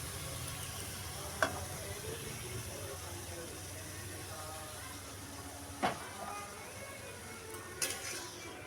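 Palm juice is stirred into a mixture in a pot: a few sparse utensil clinks, widely spaced, over a quiet background hiss.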